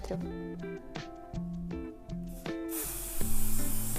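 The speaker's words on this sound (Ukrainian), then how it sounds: "тримаючи балончик вертикально, треба розпилити на відстані 25 см" A Coccine Nano Water Block water-repellent aerosol spray in a 400 ml can, held upright, releases a sustained hiss in the final second, which bursts in over plucked background music.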